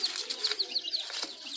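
Colombian Brahma chicks peeping in quick, repeated high chirps at close range, a rapid rhythmic series over a soft background, while being vaccinated with Ranikhet vaccine on their sixth day after hatching.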